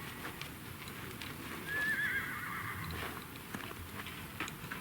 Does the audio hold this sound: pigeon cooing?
no